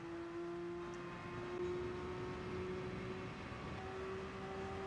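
A Porsche race car in a driving game holds a steady, sustained engine drone at high speed, with a constant whine and low rumble and no talking over it.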